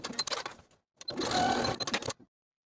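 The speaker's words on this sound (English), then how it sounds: "pin the side edges of both of these folded portions and sew the side edges of the 5/8 inch seam allowance." Home sewing machine stitching the side edges of a jacket at a 5/8 inch seam allowance, in a short run followed by a longer steady burst, close and clear.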